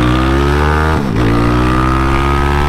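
A 371cc Maiki 021 motor revving hard on a highway, a loud steady harmonic engine drone with a brief dip and pitch drop near the middle before climbing again.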